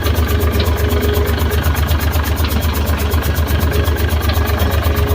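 Mitsubishi Fuso 6M70 truck diesel engine running just after starting, a loud steady idle with a fast regular pulsing chug and deep low rumble, constant throughout with no talk.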